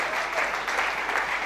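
A crowd at a church celebration applauds and cheers in a steady, dense wash of clapping that holds at an even level throughout.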